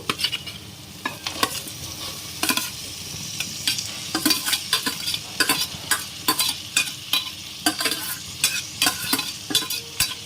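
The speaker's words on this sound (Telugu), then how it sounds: "ఈ చికెన్ తీసి దీంట్లో వేసేద్దాం ఫ్రెండ్స్" Chicken pieces mixed with chili powder and salt frying in a pan, a constant sizzle broken by frequent rhythmic stirring scrapes and clatters of a spoon against the pan, near and without voices.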